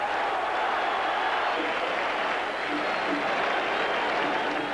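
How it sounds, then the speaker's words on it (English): A stadium crowd at a rainy college football game between Ohio State and Purdue roars in a broad, sustained wash of cheering, constant and distant, with no clear breaks. "Everybody cheering."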